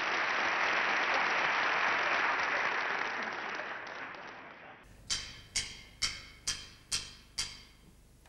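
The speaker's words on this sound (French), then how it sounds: "Et nous allons le saluer dans quelques secondes avec nos applaudissements." Audience applause at the 1975 Eurovision Song Contest, a dense sustained clapping that fades out after several seconds, followed by a series of evenly spaced sharp tick-like taps.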